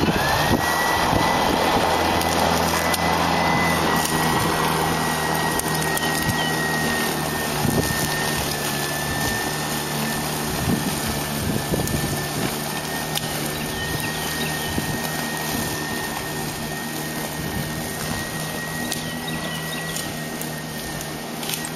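A lawnmower fitted with tire studs mowing a steep grass hill, a loud continuous engine drone with a steady whine, heard close and alone for the whole stretch.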